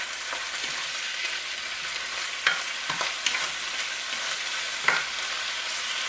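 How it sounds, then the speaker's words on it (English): Morel mushrooms frying in avocado oil in a pan, a continuous bright hiss of sizzling with occasional louder pops and stirring clatters, close and steady without talk. "And you can hear how they sizzle up so much better with all of that moisture gone."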